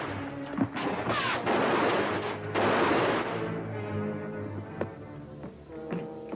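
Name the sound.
rifles firing, gunfire in a 1955 film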